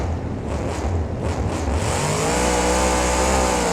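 A monster truck fitted with loud headers, in the BeamNG driving game at an Arlington, Texas freestyle event, roars close by as its engine revs up and holds a rising, sustained drone.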